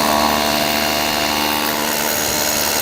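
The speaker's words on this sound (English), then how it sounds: "we're drilling the hole, right? No particulate, it's not becoming airborne" Power drill boring a hole with a vacuum dust extraction attachment, one of the new 2020 power tools and accessories; a loud, steady whirring drone runs unbroken for the whole short stretch with no talk over it.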